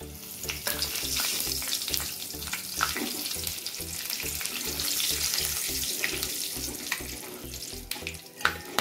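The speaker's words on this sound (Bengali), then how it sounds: "ফোড়নের জন্য দিয়ে দিচ্ছি।" Whole spices, including black cardamom, fennel seeds, cinnamon and mace, sizzling in hot oil for tempering while making rui fish korma, a steady crackling fry with rhythmic clinks and stirring throughout.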